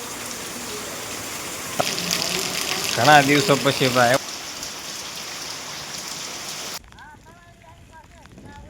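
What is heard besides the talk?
sudden rain falling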